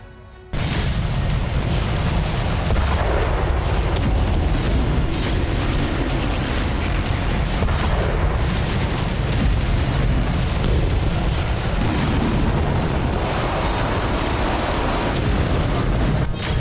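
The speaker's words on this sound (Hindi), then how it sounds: "ऐसे धमाके करने की ताकत रखने वाले रूसी हथियारों से ही पूरी दुनिया खौफ खाती है।" Russian weapons unleash a barrage of heavy explosions and booms, loud and continuous with rumbling blasts overlapping throughout, after a brief quiet start, with no speech heard.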